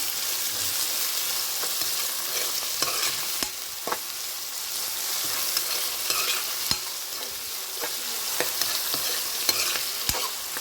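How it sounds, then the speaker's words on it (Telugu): Onion and green chili frying in a pan until golden brown, a constant sizzle with repeated stirring clicks and spoon taps scattered throughout, close and steady, no talking. "ఇప్పుడు వీటిలోనే ఉల్లిపాయ పచ్చిమిరపకాయ వేసేసుకోవాలి. వేయించుకోండి."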